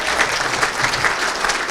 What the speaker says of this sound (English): I think that was Anastasia that started clapping first.